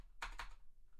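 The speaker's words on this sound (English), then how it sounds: "Sorry, I'm typing like an idiot." Two quick, faint keyboard key presses sound close together, followed by near silence.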